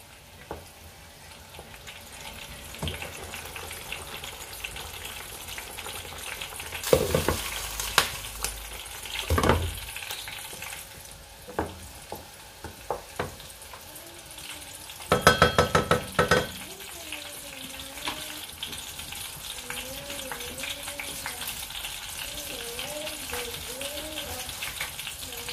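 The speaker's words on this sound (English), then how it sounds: "You don't have to fry the onions too much, not burnt, not all that brown" Onions fry in a pot for yam porridge, giving a soft continuous sizzle with bursts of louder hissing and stirring scrapes, with some faint vocal sounds toward the end.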